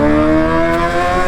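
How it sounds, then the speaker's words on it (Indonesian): A Kawasaki ZX-25RR motorcycle engine revving loud and close, a high sustained inline-four whine with strong harmonics that holds steady for about a second, heard while riding. "Cuma memang gua berasa secara suara memang ini motor sih nikmat guys"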